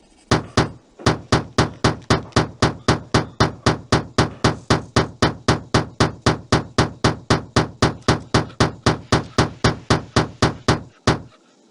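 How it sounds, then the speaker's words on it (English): Rubber mallet pounding a saucer into shape in the Tonka Workshop PC game (1998): a long, steady run of loud, evenly spaced thumping blows, around three per second, with a brief pause near the start and no talk. "Pound the saucer into shape with the rubber mallet."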